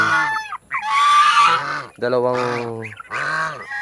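Heritage-breed geese honk loudly and close by in a series of harsh, nasal calls, several overlapping bursts with brief pauses between them.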